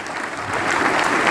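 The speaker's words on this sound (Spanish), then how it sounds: "También darle un fuerte aplauso a los dirigentes que están sentados acá" Audience applause for union leaders seated at a political event in Quequén, a steady, dense clapping that swells slightly toward the end, close and filling the space.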